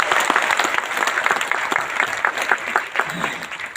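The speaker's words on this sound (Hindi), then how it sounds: "रवि जी के लिए जोरदार ताली को बजा दीजिए" Audience clapping for a guest at a hosted event, a dense, loud burst of applause from a crowd that holds steady throughout.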